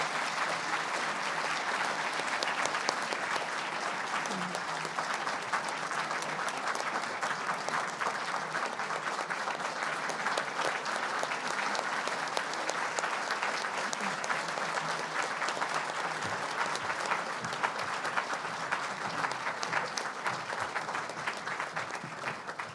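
A ceremony audience at a philanthropy award event applauds steadily as youth organization winners walk to the stage, a sustained crowd clapping with faint voices underneath.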